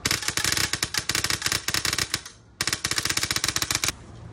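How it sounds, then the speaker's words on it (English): A Polarstar Jack airsoft gun fired very fast on semi-auto, a rapid stream of sharp close shots that breaks briefly and then resumes, loud and with no talking. "he's gonna shoot his new build on semi."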